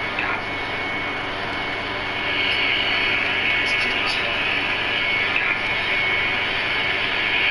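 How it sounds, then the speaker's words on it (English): A PS4 console's cooling fan runs loud and steady like a jet engine, a constant broadband whoosh with a persistent high whine that lasts the whole stretch without a break. "my PS4, like, sound like a jet engine"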